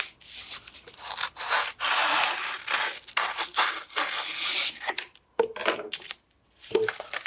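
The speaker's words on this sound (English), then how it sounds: "I just cut off a piece that is the right size" Scissors cutting a piece of adhesive-backed sheet for a wrestling trophy project, heard as a close, steady rasping cut broken by brief pauses, with no talking.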